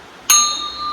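A single struck strike of a temple bell gives a bright, clear ding that rings on with a sustained metallic tone, close and alone.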